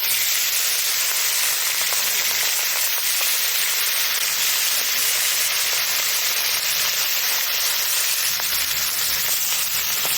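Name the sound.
fish frying in hot mustard oil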